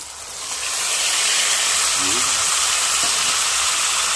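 Marinated pork dropped into a hot pan for igado bursts into a loud, steady sizzling hiss that swells within the first second and keeps going close up.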